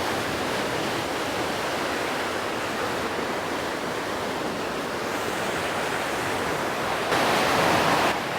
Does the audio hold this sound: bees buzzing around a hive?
no